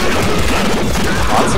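Dense, loud burst of gunfire from the Nuclear Throne video game, with rapid overlapping shots and crashing impacts running continuously through the short stretch.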